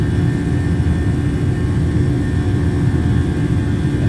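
Boeing 737 jet engines drone in a steady, loud, continuous roar with a low rumble and high whine during a climb toward cruise altitude in a flight simulator, with no talking.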